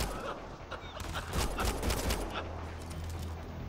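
Sustained gunfire from the sci-fi shooter video game Mass Effect: Andromeda, dense bursts of automatic fire and impacts rolling over a low hum for several seconds, loud and close, with no talking.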